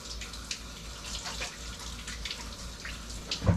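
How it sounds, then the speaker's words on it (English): Tap water runs steadily into a sink while someone washes cookie dough off their hands, a continuous close splashing stream with a brief louder splash near the end. "I'm going to wash my hands real quick."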